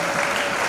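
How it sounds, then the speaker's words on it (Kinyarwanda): Brief burst of dense congregation applause in a church, many hands clapping together at a steady, fairly loud level. "amashyi menshi"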